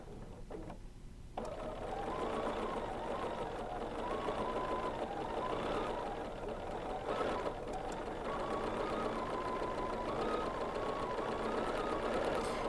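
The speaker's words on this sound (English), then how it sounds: "With my stitch regulator on mode 2, I am going to begin my free motion quilting" A sewing machine doing free motion quilting with its stitch regulator on mode 2 hums and chatters steadily and loudly after a brief quieter start, its rapid stitching running continuously.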